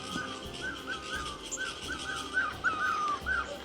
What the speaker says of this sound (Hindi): सिर्फ पक्षियों के चहचहाने की आवाज़ें आ रही हैं।